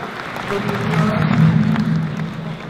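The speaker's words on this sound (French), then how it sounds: "Vous pouvez effectivement applaudir les vainqueurs du Grand Prix régional." An audience applauds the winners of a regional Grand Prix at the Pyramide d'Argent 2015 awards, a dense wash of clapping that swells and fades over a few seconds, with some crowd murmur mixed in.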